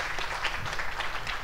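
An audience applauds at a concert of Bengali raga-based songs, a fairly soft, even patter of many hands clapping together without a break.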